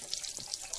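Water poured to water a plant, a brief soft trickle and faint splashing heard quietly and alone for under a second.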